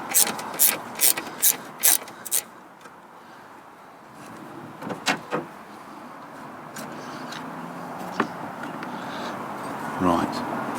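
Socket wrench ratcheting on 15mm engine mount bolts of a Land Rover Freelander, with close, crisp clicking bursts at the start, then quieter mechanical clicks and clanks over a steady background hum.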